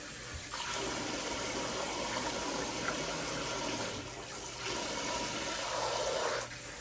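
Warm tap water runs steadily into a basin being filled for bathing a red sable male dog, a continuous close gushing stream with a brief dip partway through, no talking.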